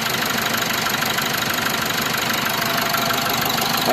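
An Isuzu D-Max pickup's turbo diesel engine idles steadily up close, with a rough knocking clatter that stays constant throughout.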